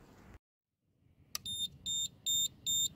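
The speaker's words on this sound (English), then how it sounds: "the inverter starts to beep in and the red LED lights up" Four evenly spaced electronic warning beeps from an inverter connected directly to a solar panel without a battery, high-pitched and steady, sounding close by after a brief moment of silence.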